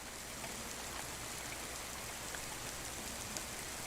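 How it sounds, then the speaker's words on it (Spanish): Soft, steady rain falling, a continuous hiss with faint scattered drops, quiet and unbroken. "El de la lluvia."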